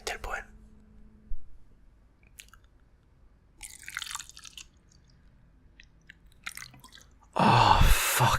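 Water dripping into a glass in a quiet Icelandic ASMR session: sparse, soft isolated drips amid faint whispering, then a sudden loud, splashy burst of liquid near the end.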